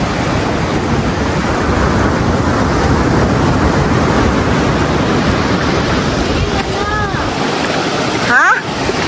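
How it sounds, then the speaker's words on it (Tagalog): Strong sea waves surge and crash at a rocky shoreline pool at rising tide, a loud, continuous roaring wash of surf with a brief gust near the end. "malakas na yung alon"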